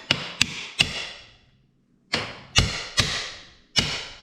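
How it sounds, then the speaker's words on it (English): A hammer taps a part into place during reassembly of a Honda CRF 250 motorcycle, giving sharp metallic knocks: three quick strikes, a pause, then four more evenly spaced, close and loud with no talk. "I'm gonna use the hammer. I'm gonna tap this bitch in."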